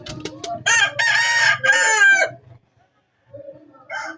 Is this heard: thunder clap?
no